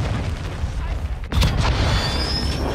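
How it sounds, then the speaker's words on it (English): A cruise missile explosion in a video game lands as a sudden loud boom midway through, followed by a rolling rumble and a thin high whine over steady battle noise. "Hostile cruise missile incoming."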